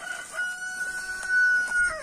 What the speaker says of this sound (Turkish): Horozun sesi buradan geliyor.